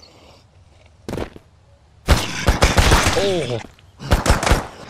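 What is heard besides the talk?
gunfire from a gun in the video game Mist Survival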